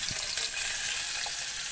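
Chopped onion dropping into hot oil in a home kitchen pan for spicy boiler chicken, giving a steady, fairly faint hiss and crackle with a brief louder pop near the start, no voices.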